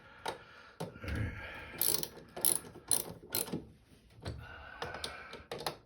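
A hand ratchet tightens screws during a repair of an LG direct-drive front-load washing machine, giving close, crisp bursts of rapid clicking that come in several separate strokes with short pauses between them.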